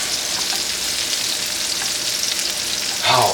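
Onions sizzle steadily in a pan while smash burgers are being made, a dense continuous frying hiss that swells briefly louder near the end as they are stirred.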